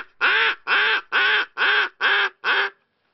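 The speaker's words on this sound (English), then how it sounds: "everyone knows what a duck quack sounds like" Six evenly spaced quacks from a duck call blown in a quick series, each a loud, close, nasal blast of equal length and volume, ending in silence.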